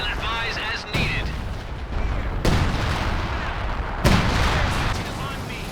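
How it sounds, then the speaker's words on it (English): Enemy artillery fire in the video game Company of Heroes 2, with three heavy booming impacts spaced a couple of seconds apart over dense battle noise. A voice on the radio speaks at the start. "Enemy artillery fire."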